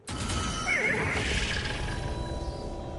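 A whinnying horse neighs in a video game, a loud, drawn-out call rising over a dense, busy game soundtrack and lingering for a few seconds without speech.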